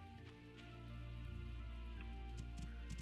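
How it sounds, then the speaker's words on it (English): Rain falling in the farming-life game My Time at Portia, a soft, faint patter of drops beneath sustained in-game background music. "Oh, and it's raining."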